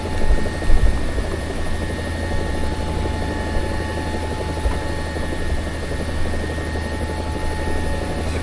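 Mi-24D helicopter in the War Thunder video game, a steady loud rotor and turbine drone with a constant whine, continuous throughout with a couple of brief louder thumps near the start.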